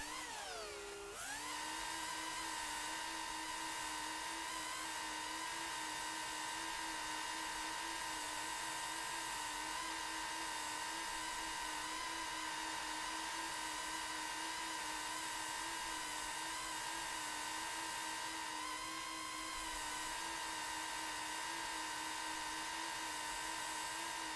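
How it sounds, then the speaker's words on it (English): A mower works a field in the farming video game Farming Simulator 25, giving a steady, loud machine whine and drone throughout, with a brief pitch dip at the start and another near the end. "I'm thinking I'm gonna have to mow this whole field myself"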